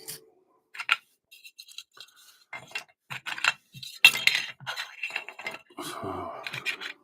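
Model railway chassis being shifted aside on a workbench: scattered light clinks, taps and scrapes of small metal parts, close and soft, with a brief rougher rustle near the end.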